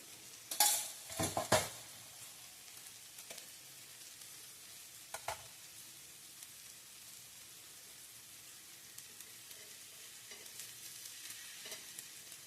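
Curd-coated bread frying in oil on a flat pan sizzles softly and steadily, with a few close metal scrapes and clinks of a spatula early on and faint taps later, no talk.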